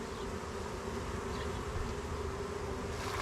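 Honeybees, returning field bees, swarming around a hive box, forming a dense, continuous buzzing drone up close that stays steady and loud throughout with no voices.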